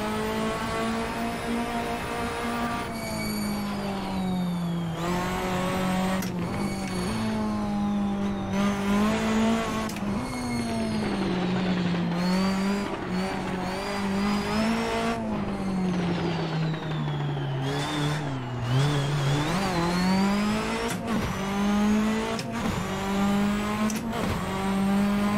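A Citroen Xsara rallycross car climbs the Jaizkibel hill climb, its engine revving loud and close, pitch rising and dropping with repeated gear changes and lifts, with brief gaps and some tire noise between bursts.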